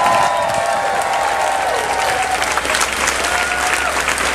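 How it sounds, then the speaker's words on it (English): Loud audience applause at an onboard cruise costume parade contest, a dense crowd clapping with some cheering and a sustained tone underneath throughout. "one more round of applause"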